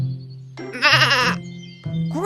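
A cartoon goat gives a wavering, nasal bleat, followed by the start of a second bleat, loud and close against a low, steady background tone.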